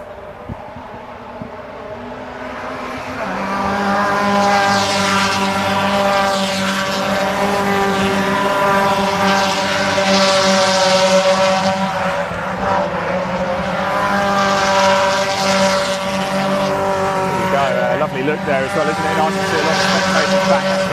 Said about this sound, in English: as the cars wreck through into the back section of Cadwell Park